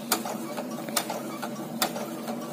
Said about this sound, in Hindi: एकदम बिल्कुल किनारे किनारे हम सिलाई को लगाएंगे